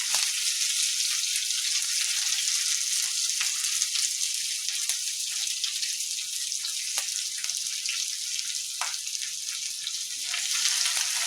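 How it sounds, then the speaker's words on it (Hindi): Sliced medium onions fry over high heat for palak paneer, producing a steady, loud, close sizzle that barely changes throughout, broken by a few faint clicks of stirring and no voices. "आ एकरा जाबे तक गुलाबी नहीं हैत ताबे तक तेज आंच पर भूजे के छै।"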